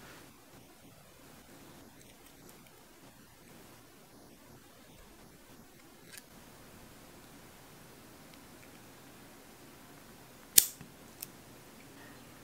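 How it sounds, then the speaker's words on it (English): Scissors cut a short length of red plastic tubing for a snapper fishing rig. Two faint, crisp snips come late in an otherwise quiet stretch of low background hiss. "grab your red tubing, and we want to cut a small length,"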